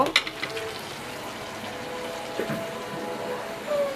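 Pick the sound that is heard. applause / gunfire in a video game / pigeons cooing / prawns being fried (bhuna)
prawns being fried (bhuna)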